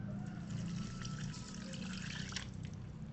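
Boiled, cooled coconut milk pours steadily into a blender, a continuous soft liquid stream with faint trickling and splashing, moderately quiet and uninterrupted.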